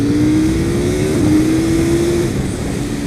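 A KTM 790 Duke motorcycle on a track accelerates hard, its engine note climbing through the gears with a brief dip at one shift, loud and close throughout, with no talk.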